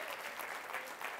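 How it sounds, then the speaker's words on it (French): A studio audience at a comedy show claps in a dense, even burst of applause that fills the short moment at moderate volume, with no voices on top. "on peut s'applaudir"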